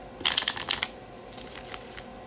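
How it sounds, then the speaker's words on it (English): Two quick bursts of cards being shuffled, a crisp riffling flutter close by, the first louder and the second softer. "I'm going to shuffle it for good luck"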